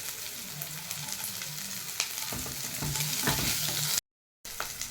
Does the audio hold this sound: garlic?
yes